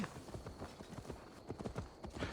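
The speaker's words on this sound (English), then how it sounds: "Now to deliver Magni his horse." Horse hooves clip-clop at a steady walking rhythm in Assassin's Creed Valhalla, quiet and close, with no voices heard.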